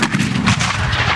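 Cannon at a historical battle reenactment in Wimborne, a single heavy blast with a rumbling, reverberant tail, loud and close with no talk.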